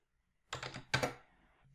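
Keys clatter on a computer keyboard during work in an Excel spreadsheet: two quick close bursts of typing, each several rapid clicks, then a short fading tail in a quiet room.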